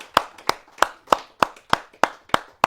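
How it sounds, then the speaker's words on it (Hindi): Hand claps at a Hindi kavi sammelan poetry event: nine crisp, evenly spaced claps at a steady rhythm, close and distinct, sounding like a single pair of hands rather than a full audience, with no talk. "मैं चाहूंगा कि एक बार जोरदार"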